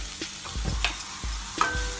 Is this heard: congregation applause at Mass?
no